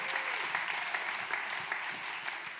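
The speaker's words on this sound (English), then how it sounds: "Please give a round of applause to our kind sponsors." An audience at a live stage show claps for the sponsors, a brief, steady patter of many hands heard at a distance and fairly soft throughout.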